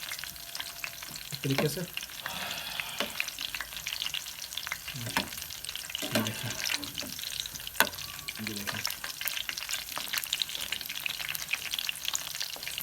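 Battered onion rings sizzle and fry steadily in a pan of hot oil, a continuous crackling bubble broken by a few clinks and scrapes as they are stirred and turned, with a brief spoken comment over it.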